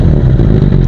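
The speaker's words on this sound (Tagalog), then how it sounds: "Austin Racing aftermarket exhaust sound check." A Suzuki Bandit 650 fitted with an Austin Racing aftermarket exhaust revs, giving a loud, close, continuous engine roar in a brief burst with no voices over it.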